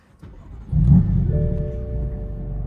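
A BMW F82 M4's engine, with stock exhaust and catless downpipes, cranks and catches, then settles into a steady, rumbling idle close by.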